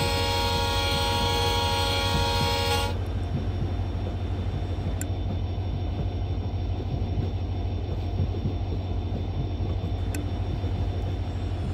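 Locomotive engine of an Indian Railways express running in Train Simulator 24, a loud steady low rumble throughout with a bright whining drone that cuts off after about three seconds, leaving the continuous engine roar alone.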